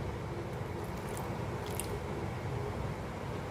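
A thick vegetable batter paste being stirred together with added water, giving a steady, close, wet squishing and slapping texture that continues without pause and without any voices.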